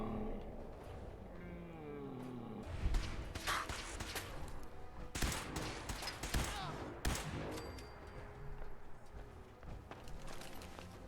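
Fallout 4 video game combat: bursts of gunfire crack out in a scattered volley, several sharp shots close together amid footsteps and movement, fairly loud against a quieter backdrop.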